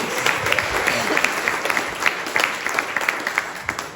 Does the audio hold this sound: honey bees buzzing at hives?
no